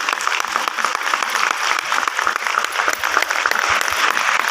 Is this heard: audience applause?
yes